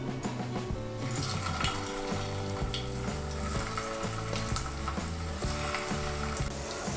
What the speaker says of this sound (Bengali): বানিয়ে নিয়ে কোপ্তাগুলো আমি সাদা তেলে ভেজে নেব